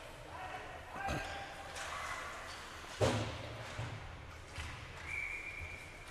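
A referee's whistle blows during an ice hockey game between the Warriors and Vail, a short bright tone near the end over steady rink noise, after a sharp thud from the ice midway.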